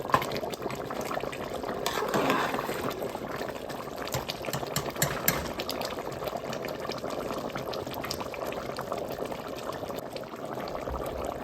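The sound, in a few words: mutton bones boiling in coconut milk with garlic, pepper, cumin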